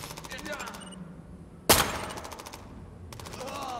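Rapid automatic gunfire from the video game Ghost Recon Future Soldier comes in repeated bursts, with one loud, sharp shot cutting through midway and more bursts following over a steady game background.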